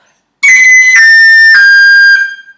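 Tin whistle slurring from high B down to A with a quick cut ornament, played close and loud: a bright sustained tone broken by three brief articulations, then fading out, with no talk.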